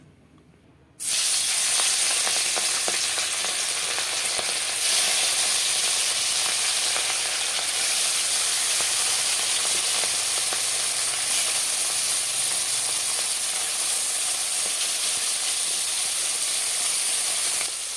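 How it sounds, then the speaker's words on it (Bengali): Morala fish, coated in salt and turmeric, sizzling steadily in hot oil in a wok, a loud continuous hiss that starts abruptly as the fish go in and holds for the whole stretch with no talking. "এই মোড়লা মাছগুলো নুন হলুদ মাখিয়ে রেখেছিলাম, এগুলো এবার একটু তেলে ভেজে নেব"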